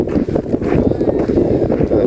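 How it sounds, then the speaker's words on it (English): Wind gusts across a hiking trail on a long-distance trek, a steady, loud buffeting rumble against the microphone throughout. "wind picked up."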